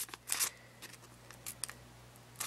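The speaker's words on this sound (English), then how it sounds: "I took my mini scallop scissors and I just cut an oval shape" Mini scallop-edged scissors snipping an oval out of a brown paper bag, a few faint, quick crisp cuts scattered across a quiet background with low hum.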